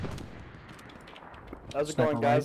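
Explosions and artillery-like booms rumble through a World War II battlefield in the game Hell Let Loose, a dull sustained barrage with a few thuds, while a player greets others over it.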